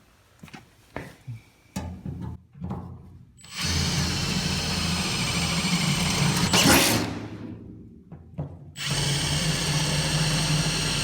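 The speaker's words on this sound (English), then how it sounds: "So let me drill these holes out to the right size." After some clatter and handling noises, a power drill whirs steadily for several seconds, winds down briefly, then starts drilling again, loud and close, sizing holes for a 1953 Chevy pickup master cylinder.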